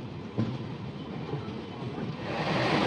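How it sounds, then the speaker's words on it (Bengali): Train pulling out of Visakhapatnam station and rolling on the rails, a low rumbling carriage noise at moderate level with a single knock early on and a gradually building hiss of motion. "গাড়ি তো আমাদের ছেড়ে দিল বিশাখাপট্টনম স্টেশন থেকে একদম রাইট টাইমে"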